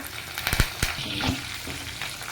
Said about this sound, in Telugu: ఎండుమిరపకాయలు, వెల్లుల్లిపాయలు వేసుకుని వేయించుకోవాలి